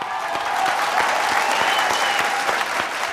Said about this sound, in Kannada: ಓ ಜೋರ್ ಚಪ್ಪಾಳೆ